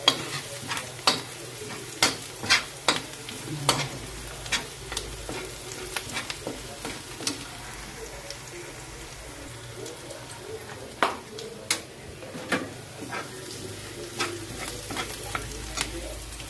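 Ingredients for pumpkin soup browning in a hot pan, a steady sizzle broken by repeated sharp scraping and tapping of a utensil as they are stirred, close and fairly loud, no speech.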